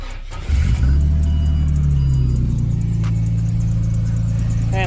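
A Ford XR6 Falcon turbo engine cranks and catches, then settles into a loud, steady idle with a persistent squeal riding over the engine note.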